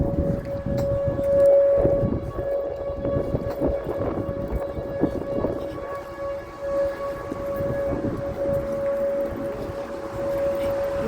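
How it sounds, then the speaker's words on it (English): Tornado warning sirens sound across an Illinois-to-New Mexico homestead setting, a steady wailing tone that holds for over ten seconds over a rumbling, gusty background, with faint voices. "The sirens and everything go off again."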